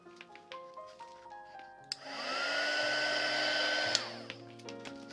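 A heat tool blows steadily for about two seconds while warming a resin pen cap, a loud whooshing rush that starts abruptly and cuts off, with quieter clicks and handling noises before and after.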